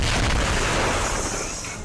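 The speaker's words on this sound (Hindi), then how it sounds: "सीरिया के सैनिक रक्का के इलाकों में तोप से आईएसआईएस के गढ़ में बम बरसा रहे हैं।" Artillery shelling of ISIS positions in Raqqa, Syria comes through as a loud, dense roar of booming blasts and rumble. The noise is continuous through the short stretch and fades slightly toward the end.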